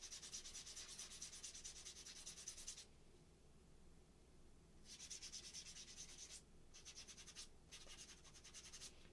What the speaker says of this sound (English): Because you don't want to sand too much,